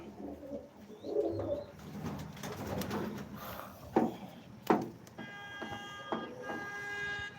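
Pigeons in a pigeon loft during the rainy season, soft cooing near the start, then a couple of sharp flutters or knocks and a faint tonal hum toward the end.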